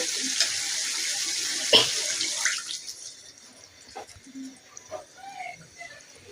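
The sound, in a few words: water poured into cooking pot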